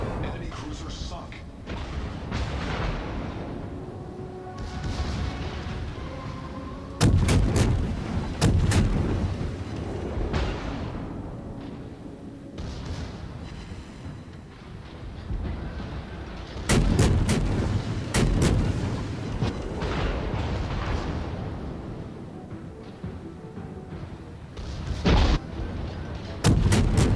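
Heavy naval guns boom repeatedly in World of Warships, with clusters of sharp blasts and rumbling salvos over engine and ambient battle noise, while a player's voice talks throughout.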